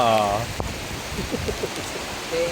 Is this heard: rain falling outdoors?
yes